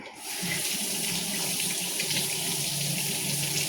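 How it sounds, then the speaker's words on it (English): Tap water runs steadily into a kitchen sink as lemons are rinsed under it, a continuous close splashing hiss with no voices. "these lemons, just rinsing the outside because you won't be using them"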